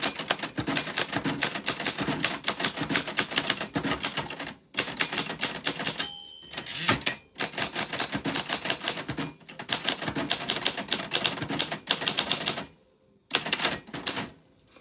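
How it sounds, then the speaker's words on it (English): Rapid, dense typewriter keystrokes on a manual typewriter pushed to top speed, long continuous bursts broken by a few brief pauses and a short bell-like ding, close and loud with no talk. "I'm trying to go as fast as I think the typewriter will allow me to see when it skips"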